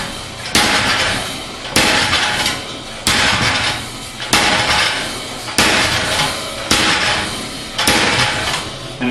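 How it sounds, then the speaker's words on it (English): Treadle hammer striking a flatter held on tapered work, heavy metallic blows landing at a steady pace about every 1.3 seconds, each with a ringing decay, and no talking. "with the treadle hammer we can have the tool in one hand, the work in the other, second hand, and that big leg muscle doing the hammering for us"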